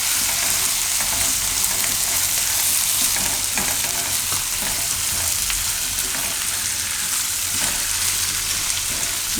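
Okra with salt and turmeric frying in a pan, a steady loud sizzle running throughout with occasional scraping and stirring sounds.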